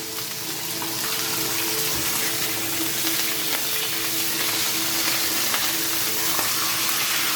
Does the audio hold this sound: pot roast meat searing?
yes